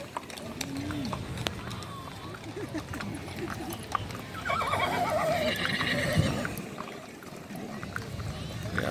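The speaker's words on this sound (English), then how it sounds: "Yeah, those horses are talking a little bit." Horses whinny and neigh amid a busy outdoor cattle drive at Dodge City Days in Dodge City, Kansas, with hooves, crowd noise and people talking nearby mixed throughout.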